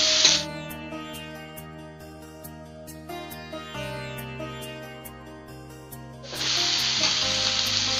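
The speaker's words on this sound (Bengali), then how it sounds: "এবার একটু নাড়াচাড়া করব" Chilli, black pepper and turmeric powders frying in a pan for egg bhurji curry are stirred, a close bright sizzle that flares at the start, eases back under scraping strokes, then surges loud again.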